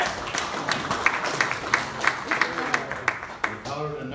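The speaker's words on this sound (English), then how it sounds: "Give God a hand clap." Members of a church congregation clap their hands during a service, producing a loose run of distinct, fairly loud claps with some talking mixed in.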